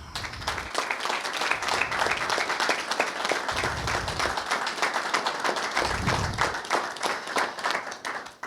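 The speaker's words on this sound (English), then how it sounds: "maybe one more round of applause here for what Rachel did" An audience at a fire district recognition ceremony claps in sustained applause, a crowd of hands rattling steadily for several seconds at a fairly even level, with low murmurs underneath.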